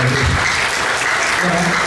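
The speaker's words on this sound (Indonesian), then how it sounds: "Berikan tepuk tangan yang paling meriah." Loud, enthusiastic applause from a young adults' Christmas church service congregation, a thick burst of many hands clapping close and full, with faint crowd murmur beneath.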